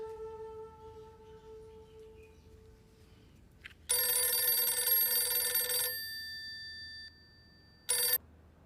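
A telephone rings indoors in a Hindi TV drama scene: a loud, bright electronic ring sounds for about two seconds, fades into a lingering tone, then gives one more short burst, with no talk over it.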